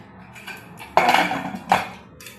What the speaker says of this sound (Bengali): কুকারে ঢাকাটা আমি আটকিয়ে একবারে সিদ্ধ চাপিয়ে দেবো